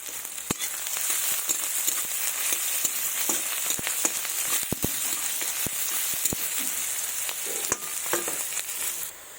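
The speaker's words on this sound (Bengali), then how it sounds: "পেঁয়াজটা আমার তাড়াতাড়ি ভাজা হয়ে যাবে।" Onions fry in a pan for a goat-fat and pea dish, giving a continuous crackling sizzle with scattered sharp pops and stirring scrapes, close and steady with no talk.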